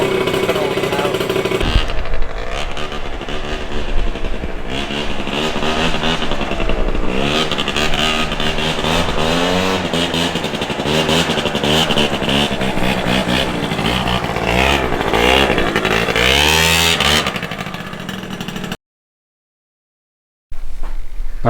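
A motorcycle engine, being checked after a wheel came off the R30, is held on the throttle and revs loudly and steadily for about eighteen seconds, its pitch rising and wavering, with voices talking over it, before it cuts out abruptly.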